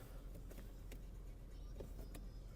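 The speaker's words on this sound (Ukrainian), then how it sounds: "Склопідйомники працюють." Electric power windows of a Skoda Octavia A5 with a 1.6 MPI engine running, a soft motor whir inside the car over a steady low hum, with a few faint clicks.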